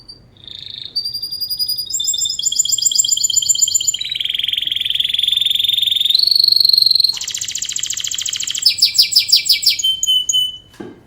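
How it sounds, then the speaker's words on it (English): Canary singing a short stretch of song, loud and close, moving through distinct phrases of sustained whistles, trills and rapid repeated chirps, ending in a quick pulsing series before stopping. "this is not even a full canary song, it's just a short snippet"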